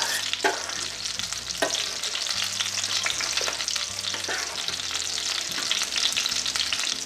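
A spoon stirs venison parmesan sauce in a sizzling pan, with soft scraping strokes over a constant frying hiss and no one talking.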